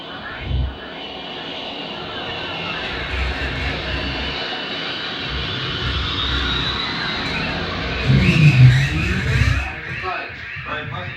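A propeller or jet airplane drones overhead in a steady, sustained roar that swells louder near the end, with a faint vocal sound early on but no clear speech.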